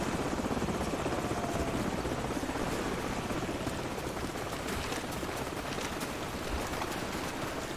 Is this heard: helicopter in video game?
yes